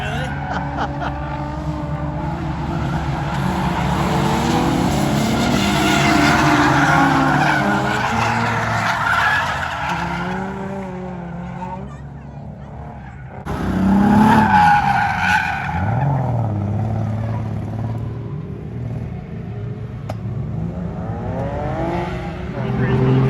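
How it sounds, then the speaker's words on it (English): A drift car skids through turns at New Hampshire Motor Speedway, its tires squealing in long wavering screeches over a roaring engine, with people talking faintly nearby. "Now Lillian's getting a little ride in the drift car."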